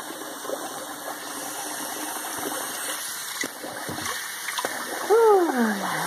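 Water runs and splashes steadily while a newly adopted dog is bathed, a constant near gush with intermittent splatter, and a brief whine-like tone rises near the end.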